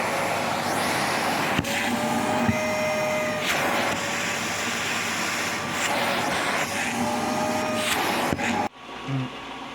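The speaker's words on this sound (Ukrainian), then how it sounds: "Працює генератор, пробую включити ось такий пилосос." A vacuum cleaner powered by a HECHT IG 3601 inverter generator runs loud and steady with a whining tone, then cuts off abruptly near the end, leaving a quieter hum.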